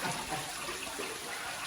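Real water running down an indoor water wall inside a house, a steady, even splashing rush heard close and alone, without voices.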